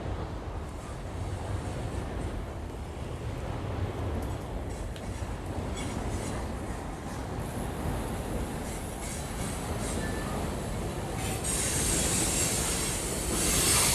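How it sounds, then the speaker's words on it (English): A train passes close by, loud and continuous, rumbling for the whole stretch with wheels squealing near the end, heard from an e-bike on an urban trail beside canal locks. "Boy, the train is pretty loud."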